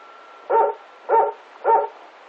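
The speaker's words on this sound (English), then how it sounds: "The dogs are barking." A dog barks three times at steady intervals, each bark clear and moderately close, with quiet background between them.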